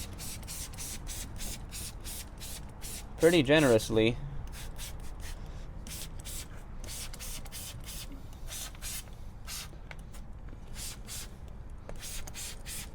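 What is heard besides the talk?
spraying acid cleaner on wheel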